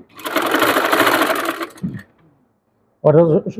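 Sewing machine stitching the folded half-inch hem of a baby frock, a close, loud buzzing run of about a second and a half that stops abruptly, followed by a short clack, a pause, then a person speaking.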